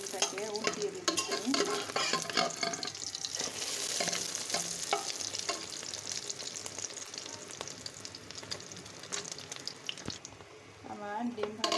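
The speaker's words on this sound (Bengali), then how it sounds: "এখন আমি ডিমটা দিয়ে দিচ্ছি তেলের ভিতরে। এখন ডিমটাকে উল্টিয়ে দিচ্ছি।" An egg fries in hot oil in a pan, a steady close sizzle broken by scraping and clattering as it is stirred and flipped.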